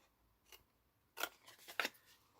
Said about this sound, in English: cut up each of the score lines, try and go through the middle of the score lines